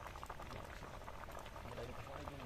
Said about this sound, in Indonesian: Gua langsung campur pepaya ya, buat kuah pepaya rebus.